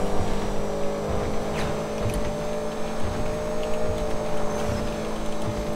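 Cars accelerating hard side by side in a high-speed street race, a continuous droning engine roar with steady tonal whine and faint ticking, loud and close throughout.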